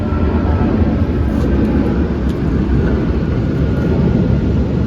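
Aircraft near Mumbai International Airport Terminal 2 produce a loud, steady, broadband roar that fills the whole stretch without a break, heavy in low rumble.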